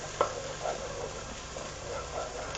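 Onions with fresh thyme and rosemary sauté in a pan for broccoli soup, giving a soft, continuous sizzle with occasional light stirring scrapes, quiet and close, with no talking.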